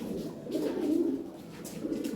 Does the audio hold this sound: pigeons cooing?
yes